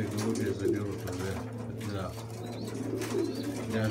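Pigeons coo in a steady low murmur from a summer evening loft, their soft throaty calls overlapping close by while someone talks over them.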